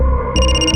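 A mobile phone ring tone cuts in partway through, a steady bright electronic tone sounding over a low background hum, close and fairly loud, with no talking.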